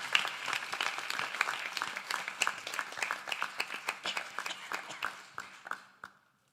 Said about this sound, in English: Let's give these people a wonderful round of applause